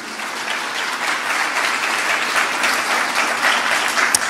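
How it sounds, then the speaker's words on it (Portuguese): Steady applause from a church congregation, dense clapping filling the room evenly for the whole stretch, loud and continuous with no voices on top. "uma salva de palmas para o Senhor Jesus"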